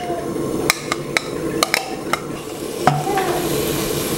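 Rendang ingredients stir-fried in oil in a pan, with a steady sizzle under repeated sharp clacks of a spatula or spoon striking the pan at irregular intervals.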